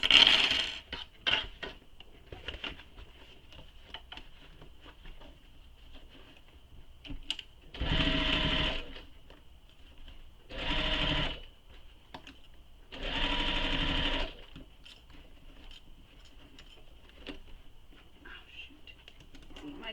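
Sewing machine stitching pleats across a fabric shoulder bag in three loud bursts, around eight, eleven and thirteen seconds, separated by quieter handling sounds and occasional talk.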